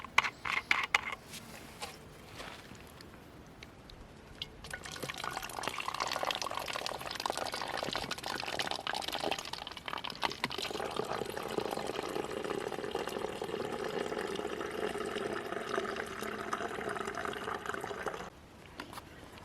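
Water is poured into a wide-mouth bottle outdoors, a faint, steady rushing and gurgling stream that starts after a few quiet seconds and runs for a long stretch before cutting off.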